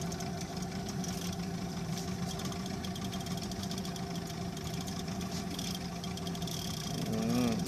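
A small boat engine idles steadily in the background on a foggy morning of fishing, a constant low drone with a slight rise in revs near the end.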